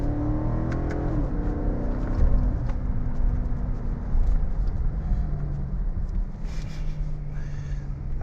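2009 Maserati GranTurismo S accelerating hard in sport mode with traction control off, a loud, steady engine roar with rising tone throughout, heard from inside with no talking.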